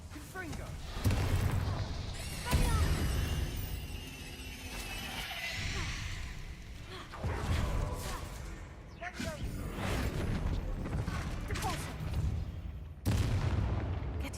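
Confringo spell blasts in the Hogwarts Legacy video game, a series of booming explosive bursts with whooshes, repeating every few seconds over continuous game sound and music.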